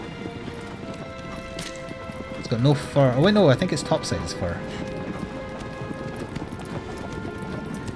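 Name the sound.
horse galloping in the video game Shadow of the Colossus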